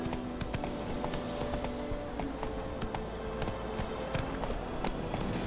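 A horse gallops in The Witcher 3 video game, its hooves pounding in a quick, steady clip-clop rhythm, loud and close over a constant background wash, with no talking.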